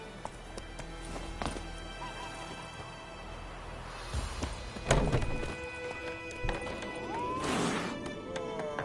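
Roach, a horse in the video game The Witcher 3, gallops with rhythmic hoof clops under game music and ambience, followed by a few heavier thumps and a loud crash near the middle.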